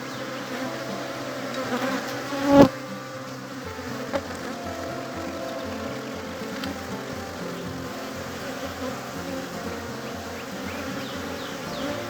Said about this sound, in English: Both of them are attracting a fair number of bees to them.